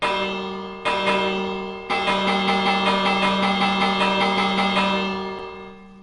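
Repeated bell strikes ring out in the block game Minecraft, a steady rapid clanging with strong sustained tones, loud and close, pausing briefly twice before continuing and fading out at the end.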